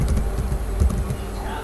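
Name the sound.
typing a password on a computer keyboard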